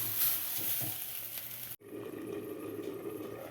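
Jackfruit seeds and long beans sauté in oil, giving a steady, close hiss and sizzle broken by one brief drop to near silence before the frying sound returns, without voices.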